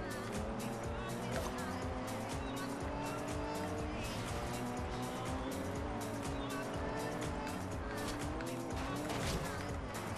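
A race car engine revs and drones loudly in a Forza Horizon 2 cross-country race, pitch climbing and dropping through gear shifts, with tire squeal and skidding mixed in, sustained from start to finish.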